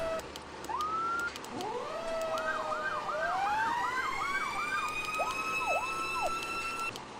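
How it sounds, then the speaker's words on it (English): Loud fire engine sirens wail and yelp continuously, several rising and falling tones overlapping throughout, with no talking. "Sirens."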